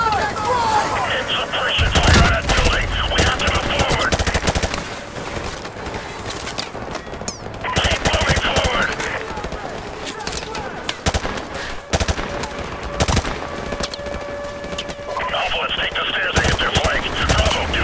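Bursts of automatic gunfire and explosions fill a Call of Duty Modern Warfare Remastered battle, with loud rapid volleys in several waves, steady combat noise between them and voices shouting over the action.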